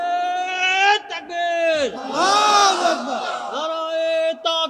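A crowd at an Islamic religious gathering for a tafsir of Surah Al Qasas roars the takbir in unison, with long, loud sustained chanted shouts rising and falling in a few waves.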